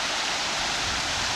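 Brown Creek in Utah flows steadily, a broad constant rush of water with no breaks, loud and close, no voices.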